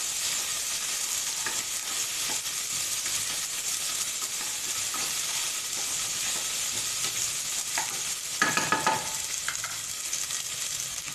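Onions frying in a pan while being stirred, a steady close sizzle running throughout with occasional scraping clatters of the spoon, a louder burst of stirring near the end; no talking.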